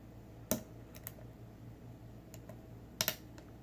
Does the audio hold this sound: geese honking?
no